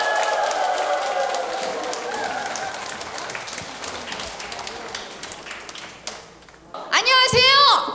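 An audience claps loudly to welcome a singing duo onto the stage at a Korean singing-class broadcast. The clapping is heard under a host's voice, fades over several seconds, and gives way to the singers greeting the crowd.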